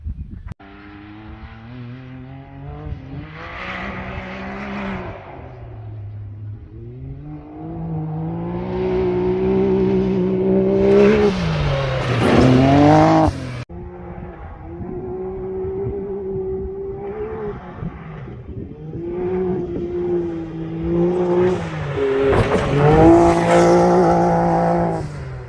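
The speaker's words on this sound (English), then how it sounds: "I'm gonna take you guys for a whole lap around with the GoPro in the X3" A Can-Am X3 side-by-side takes a full lap of a dirt track, its engine revving and surging with rising and falling pitch through acceleration and turns. The sound is loud and close throughout, with no talking.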